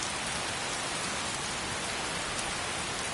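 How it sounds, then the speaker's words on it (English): Steady, dense rain falls evenly in the Skyrim video game, a constant hiss without breaks and with no voices heard over it. "Why is it raining again?"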